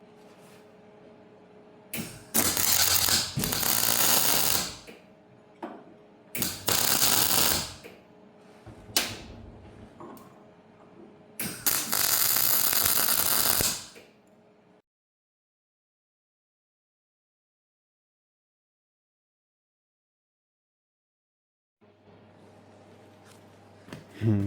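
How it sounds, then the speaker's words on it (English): Electric arc welding on scrap metal with a Vevor welder: three long crackling, hissing bursts of several seconds each with short pauses, followed by a long silence and faint room noise. "let's try to weld this up now"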